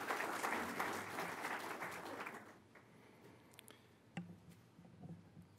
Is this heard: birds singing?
no